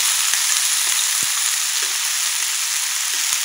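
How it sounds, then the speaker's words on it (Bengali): Kabuli chickpeas are stirred into spices frying in hot oil, making a loud, steady sizzle up close with a few soft scraping and knocking stir sounds. "এবার একটু নাড়াচাড়া করে এইবার দেবো এর উপরে এই যে কাবলি চানাগুলো দিয়ে দিলাম।"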